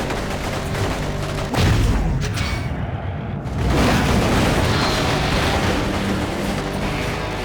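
Loud, dense video game explosions and crackling blasts fill the air in a continuous rumbling barrage, with a sharp burst partway through; from Stuntman Ignition on PS3.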